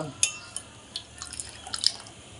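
Water is poured and dripped into a gram flour, rava and rice flour batter for dosa, giving a few light, close splashes and drips in a quiet kitchen.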